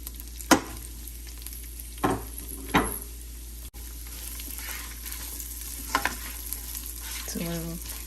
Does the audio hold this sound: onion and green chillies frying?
yes